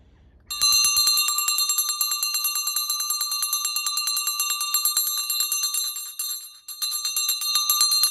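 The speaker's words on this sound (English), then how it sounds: "So I invested in a bell. Can you see the bell?" A hand bell rings rapidly and continuously, a bright metallic jangle that keeps going almost without pause, close and fairly loud.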